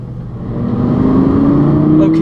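Audi R8 V10 Plus engine idling after a cold start, a steady low rumble with a rising tonal whine that swells slightly louder partway through, heard close and alone.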